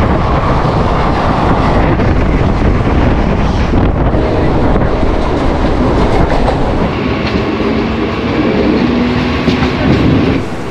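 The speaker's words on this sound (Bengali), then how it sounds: "ট্রেন ঢুকছে আমাদের শিয়ালদা, 1 নম্বরে দিয়ে দিল।" A train pulls into platform 1 at Sealdah station in Kolkata, arriving on the Pairadanga–Sealdah run: a loud, steady rumble of wagons and rails with clickety-clack and wind buffeting the microphone throughout.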